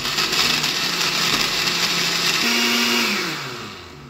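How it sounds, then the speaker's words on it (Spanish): A kitchen blender whirs loudly and steadily, blending rice, ice and other horchata ingredients for about four seconds, its pitch shifting slightly as the load churns, then easing off at the end. "Ya nuestros ingredientes todos aquí en la licuadora"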